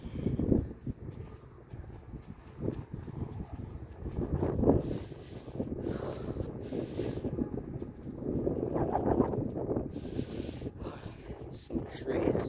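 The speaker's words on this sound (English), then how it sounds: "Stupid wind." Gusty outdoor wind buffets the microphone in low rumbling bursts through the whole stretch, with a person talking close by over it.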